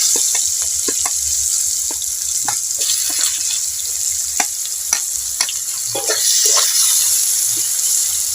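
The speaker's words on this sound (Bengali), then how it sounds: "পেঁয়াজগুলো লাল লাল করে ভেজে নেব" Chopped onions fry in mustard oil with a steady, bright sizzle, broken by scattered clicks and scrapes of stirring.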